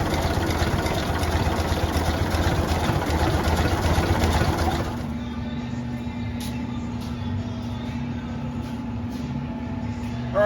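A 1930 American LaFrance 200 Series fire engine running under its own power after 25 years, with a loud, dense engine roar that drops about halfway to a quieter, steady idle carrying a low hum.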